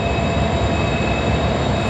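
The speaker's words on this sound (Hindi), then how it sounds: "फ्रेम में आपको AG-MU-30 82-10 लोकोमोटिव नज़र आ रहा है।" A Pakistan Railways EMD HGMU30 diesel locomotive, a loud, continuous rail rumble with a steady high-pitched tone over it, dense and close throughout without any voices.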